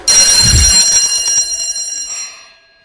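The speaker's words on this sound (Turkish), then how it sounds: "şimdi zil çalıyorsa ha bakayım bakayım. Çalıyor galiba." A loud electric school bell rings out sharply for about two seconds, then decays into a fading metallic ring.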